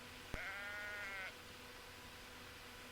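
A single sheep in a video game lets out a clear, wavering bleat lasting about a second just after a sharp click, then quiet game ambience follows.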